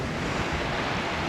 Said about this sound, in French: on a un petit vent de travers à 12-13 nœuds